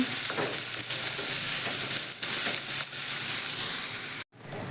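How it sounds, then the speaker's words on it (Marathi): Onion frying in a pan for a drumstick vegetable dish, a loud continuous sizzle that hisses steadily with brief dips, then cuts off abruptly near the end. "कांदाही छान भाजून घ्यायचा लाल वस्तूर भाजायचा चांगला"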